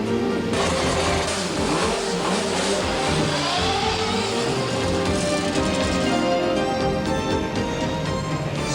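A rally car under the 1989 World Rally rules passes on a tarred stage course laid out around Kings Park, its engine revving loud and close and then pulling away, with no talk.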